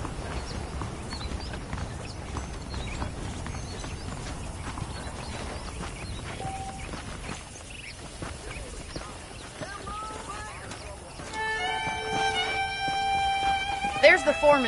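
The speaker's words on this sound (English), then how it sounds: "The horses are saddled up over here." Horses walk in the Red Dead Redemption video game, their hooves clip-clopping steadily under talking voices, with a brief whinny and some bright tonal game sounds near the end.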